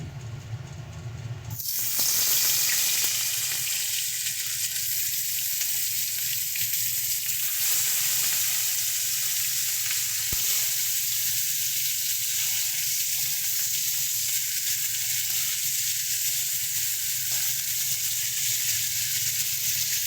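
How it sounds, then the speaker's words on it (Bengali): Dried fish (shutki) frying in hot oil in a home kitchen, a steady loud sizzle that bursts in as the fish drops into the pan and keeps crackling evenly throughout, with no talking. "এবার এক এক করে আমরা মাছগুলো দিয়ে এর মধ্যে ভেজে নেবো"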